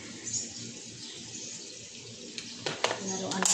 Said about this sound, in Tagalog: Magdilig ako ng tubig dito.